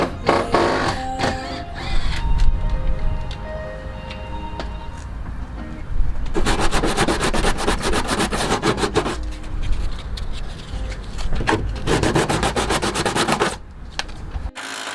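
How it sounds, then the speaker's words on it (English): Sandpaper rubs against a fibreglass ABW rear over-fender on a Subaru GC8 22B, in two long stretches of rapid, rhythmic back-and-forth scraping, close and loud, with brief knocks and handling noises in between. "I'm just sanding it right here down because it overlaps and the door won't close"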